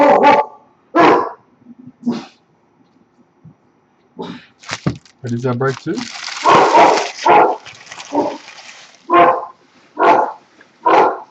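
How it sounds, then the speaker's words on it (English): A pet dog barks in agitated bursts at someone who has just come through the front gate, loud and close, with someone talking in between the barks. "That is my dog upset because someone just walked in the front gate."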